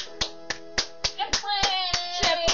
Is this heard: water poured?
no